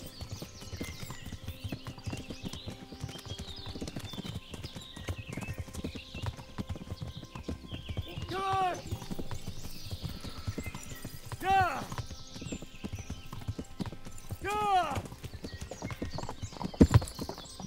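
Steady clip-clop of horse hooves in the video game Kingdom Come: Deliverance, with a few whinnies breaking in and faint talk in the background.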